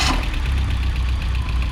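A 1990 Fiat Uno Turbo Phase II engine catches with a brief burst and settles into a steady, close idle with a slightly knocking, rough mechanical rumble, and nobody speaks.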